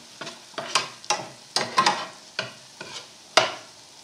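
Minced garlic, about eight medium and large cloves, browning quickly in a pan for scampi, heard as a series of distinct scraping stirs over a light sizzle, roughly eight close strokes at an uneven rhythm.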